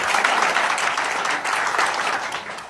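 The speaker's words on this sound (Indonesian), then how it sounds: "Kasih tepuk tangan dulu, teman-teman." Audience applause at a business presentation, a dense steady clapping from a crowd that stays loud for the whole stretch with a slight dip partway through.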